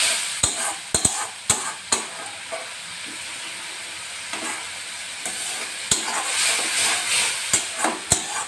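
Ground spice paste with Kashmiri red chili powder sizzles in oil for a chicken curry, with a steady hiss broken by sharp spatula scrapes and knocks against the pan as it is stirred.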